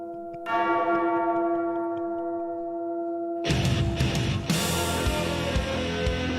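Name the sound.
bells tolling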